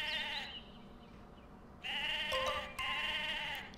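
Sheep bleating in the video game Mabinogi, a few loud wavering bleats in sequence over a soft game background, with no one speaking.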